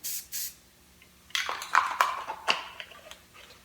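An aerosol spray can blows two short hissing bursts to clear its nozzle after a wet coat of paint on a performance muffler. A scatter of light clicks and taps from handling follows.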